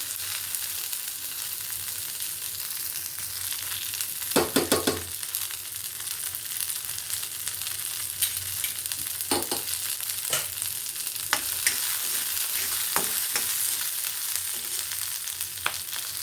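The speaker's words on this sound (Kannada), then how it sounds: "ಈರುಳ್ಳಿ ಎಲ್ಲ ಚೆನ್ನಾಗಿ ಹುರಿದಿದೆಯಲ್ವಾ" Onions sizzle steadily in a hot pan as a tempering for horse gram curry, with occasional scraping knocks from a spoon stirring them.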